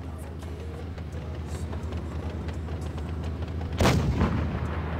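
A tank fires blind in World of Tanks Blitz during a 2 vs 2 Elite League tournament match, one sharp, loud cannon boom near four seconds over steady game rumble and engine hum.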